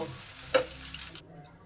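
Fish browned in hot oil in a pan, a steady soft sizzle with one brief sharp crackle before the frying sound drops away.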